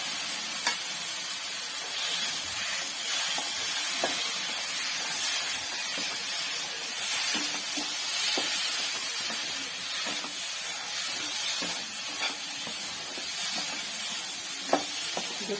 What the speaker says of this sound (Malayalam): നമുക്ക് ഞണ്ടിടാം.